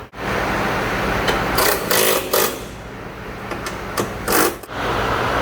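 A 2022 Genesis G70 fitted with an AEM cold air intake runs close by, its engine giving a steady, loud broadband roar with several brief swells, and no voices present.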